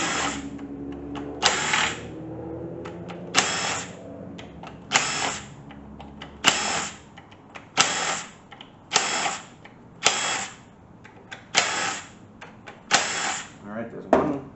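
Ratcheting hand tool clicks in repeated bursts, close and loud, while Torx T40 bolts come out of a Chrysler 850RE transmission valve body during teardown; someone talks between and over the bursts.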